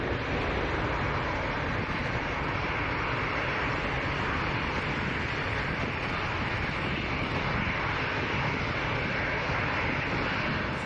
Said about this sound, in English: Take a look at this amazing livery on this A380 landing at Toronto Pearson International